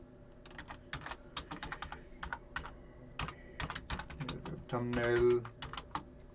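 Rapid bursts of clicking keystrokes on a computer keyboard as a prompt is typed, close and crisp, pausing briefly between words while someone talks over part of it.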